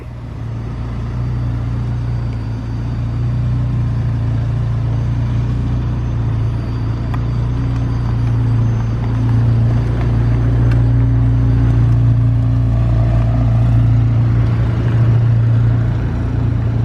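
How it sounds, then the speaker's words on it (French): A McLaren 720S sports car engine rumbles steadily and loudly close by as it pulls away onto the road, a deep sustained drone throughout with no talking. "McLaren 720S qui va aussi prendre la route."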